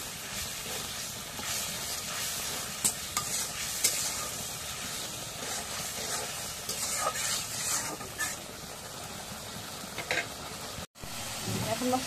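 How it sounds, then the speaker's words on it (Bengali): Spice paste made with chili powder and salt is stirred and fried in a pan, giving a steady close sizzle with scraping stirring strokes throughout and a brief break near the end. "এখন মশলা কষা নেড়ে চেড়ে মাংস দিয়ে দিই"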